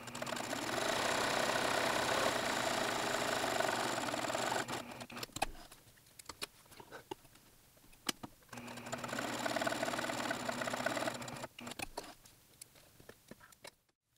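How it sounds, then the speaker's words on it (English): A sewing machine stay-stitches the armholes and neckline of a muslin bodice, running in two long steady whirring bursts with a brief pause and scattered ticks between them, up close with no talking. "I've stay stitched the armholes of the front and the back as well as the neckline"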